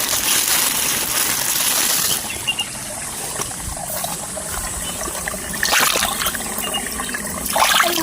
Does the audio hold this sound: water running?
yes